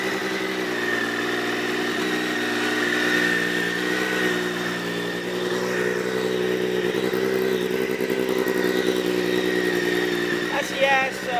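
A 2013 Triumph 675R BSB Supersport motorcycle idling as it warms up, a steady mid-pitched engine hum with a slight rise in the middle, heard close with someone speaking over it.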